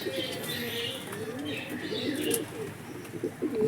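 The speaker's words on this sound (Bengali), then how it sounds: "পায়রাগুলো অনেকটা নিচে চলে এসছে" Giribaz pigeons gathered low around a loft give repeated throaty coos and faint chirps, steady and moderately close, with a few brief wing-flap bursts mixed in.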